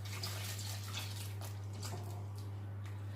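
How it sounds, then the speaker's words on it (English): Steady watery pouring and splashing as warm water goes into a pot of green bananas, continuous for a few seconds at moderate level, with a constant low hum underneath. "I'm going to add some water."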